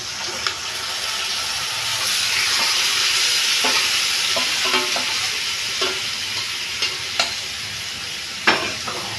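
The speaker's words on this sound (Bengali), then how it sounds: "এবার মাংসটা যে আমি মেখে রেখেছিলাম এটা এখন দিয়ে দিচ্ছি" Marinated mutton, just added to fried onions, sizzles loudly and steadily in a pan. Frequent scraping knocks from a spoon stirring it are heard close up, with no talking.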